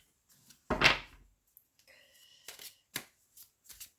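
Oracle cards being shuffled in a quick burst, followed by softer scattered card handling and light taps, fairly close and quiet, with no one talking over it.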